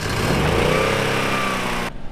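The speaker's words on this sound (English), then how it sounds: "Now I'm gonna try some starter fluid, see if we can get this thing going today." A small generator engine on a spray drone setup, primed with starter fluid, runs at a loud, steady, high-pitched buzz close by, then cuts off abruptly near the end.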